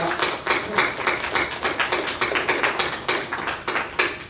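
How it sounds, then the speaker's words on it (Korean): A church congregation claps together after a worship choir's hymn with a soloist, a dense, steady rhythmic clapping that carries on evenly throughout, fairly close and alone without voices. "우리 하나님께 영광의 박수로 올려드리겠습니다"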